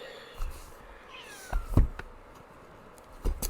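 A house cat meowing to be let outside, with a couple of faint, rising meows between soft indoor knocks and bumps and no talk.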